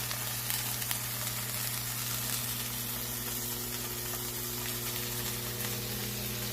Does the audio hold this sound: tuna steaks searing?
yes